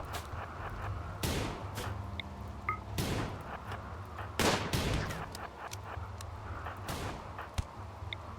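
RimWorld combat brings scattered gunshots, several sharp cracks spaced irregularly over a low ambient game bed, plus a few small tonal blips and one snappy hit near the end.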